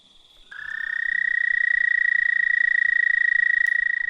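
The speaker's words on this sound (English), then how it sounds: "the American toad trill is much faster than any of the bird trills that you may hear." American toad calling: a single long, fast, monotone trill that starts abruptly after a brief lead-in and holds steady and loud to the end, close and clear against a quiet background.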